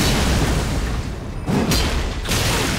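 A Black Fire spell blast in Elden Ring co-op play: a dense, rumbling roar of flame with a couple of sharper bursts cutting through, loud and close throughout.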